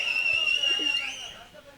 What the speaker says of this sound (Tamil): என்ன விசில் சத்தம் மட்டும் வருது?